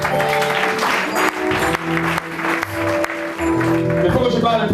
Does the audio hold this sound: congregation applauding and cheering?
yes